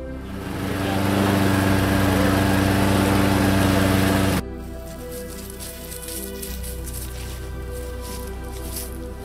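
A lawn mower engine runs steadily and loud close by during yard mowing, then is shut off about halfway through, leaving a quieter, lower background hum.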